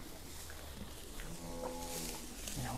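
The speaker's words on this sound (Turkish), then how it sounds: "Zor eken koyun ya bu." A sheep from a newly arrived batch of livestock in Khiva gives a drawn-out bleat that swells over a steady background of farm-yard noise.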